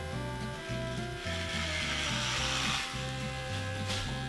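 Electric hair clippers with a number 4 guard cut hair, a close, steady buzzing hum whose pitch dips and shifts in short bursts as the blades move.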